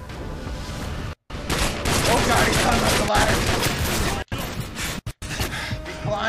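Rapid automatic gunfire from the Modern Warfare 2 Spec Ops video game, loud and sustained in bursts with a few brief cutouts.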